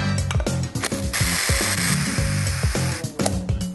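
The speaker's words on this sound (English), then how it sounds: "I'm now going to puree it." A blender purees lumpy stewed apple sauce, a close, loud churning whir with rhythmic chopping pulses and gurgling as the contents spin, with no talk.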